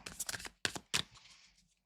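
Tarot cards are shuffled by hand in a few quick bursts of riffling and slapping. Two sharp snaps follow, then the sound trails off, close and fairly quiet.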